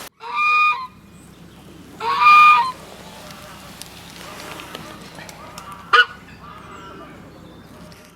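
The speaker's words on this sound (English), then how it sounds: "we also have Canada geese, grey-lag geese, and some bar-headed geese that live on the lake" Canada, grey-lag and bar-headed geese on a sanctuary lake, with two loud nasal honks close by, a short call later, and quieter murmuring and background movement between them.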